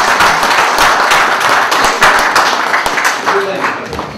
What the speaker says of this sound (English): let's have a huge round of applause for his past,